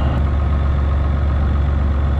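A tractor engine, likely a Renault, idles steadily close by on a farm during harvest, a constant low rumble with no talk.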